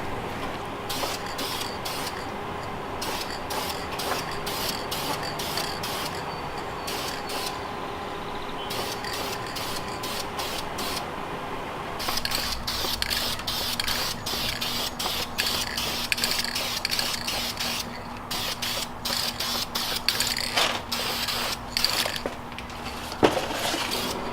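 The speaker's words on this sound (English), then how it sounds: "So I'm just gonna go ahead and start spray painting" Steady hiss of a spray can painting a car bumper in repeated bursts, each spritz a few seconds long, with a constant low hum running underneath throughout.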